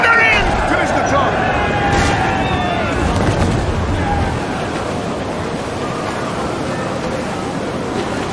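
Ship cannons boom over rolling ocean surf in a naval battle in Assassin's Creed IV Black Flag, heavy blasts rumbling loud at the start and easing into a steady wash of sea noise, with shouted crew voices.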